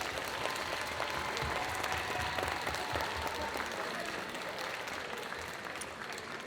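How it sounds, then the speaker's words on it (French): A crowd at a cosplay parade during a game convention applauds the technical crew, steady clapping heard from a distance in a large hall, moderately quiet and easing slightly toward the end. "Alors vraiment un tonnerre d'applaudissements pour les régisseurs du Carolo Game Show"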